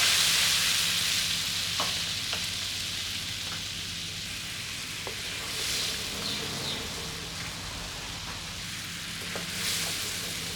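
Coconut cream for a chicken curry bubbles and fries in a pan over low-medium heat, a continuous soft sizzling hiss with occasional stirring scrapes, close and fairly steady, no talking.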